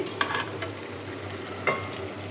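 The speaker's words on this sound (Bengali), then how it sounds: "এখানে আমি মাছ ভেজে রাখছি।" Fish frying in a pan gives a soft, continuous sizzle, marked by a few brief sharp crackles and utensil scrapes, close and moderately quiet with a low steady hum beneath.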